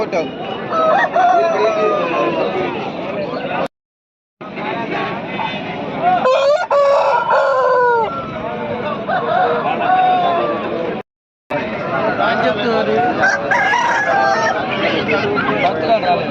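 Kaki breed roosters at the Nallapadu poultry market crow loudly and repeatedly nearby, with clucking mixed into steady crowd chatter and people talking close by.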